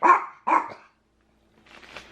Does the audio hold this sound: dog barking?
yes